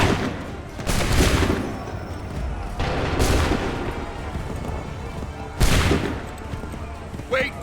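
Musket volleys from a battle in the Assassin's Creed 3 video game boom out in three heavy, crackling bursts a few seconds apart, over a rumbling battlefield. Shouted commands can be heard between them.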